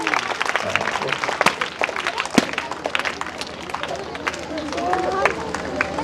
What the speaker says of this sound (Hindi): सब लोग ताली बजाएंगे सर आनंद के लिए